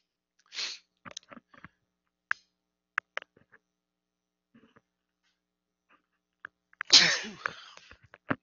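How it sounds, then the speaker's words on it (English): A single sharp sneeze bursts out near the end from a teacher in a classroom, loud and close, after an earlier sneeze-like burst and scattered small clicks and mouth noises over a quiet background. "It's not very often I sneeze during class"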